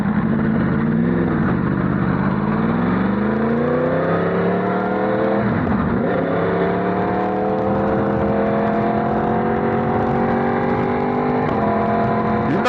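A motorcycle with a coolant leak rides slowly and steadily, its engine droning close and continuous with a smooth rise in pitch, a brief dip near the middle, then a steady climb again. No one speaks.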